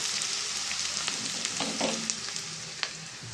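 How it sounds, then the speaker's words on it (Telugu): Chopped onions and cumin seeds fry in a pan with a continuous crackling sizzle. Sharp pops and light stirring scrapes come through close-up, and no voices are heard. "నేను వేసిన ఉల్లిపాయ ముక్కలు ఉల్లిపాయ జీలకర్ర ఇవన్నీ కొంచెం ఫ్రై అయినాయండి"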